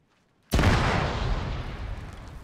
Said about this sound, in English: Explosion outside.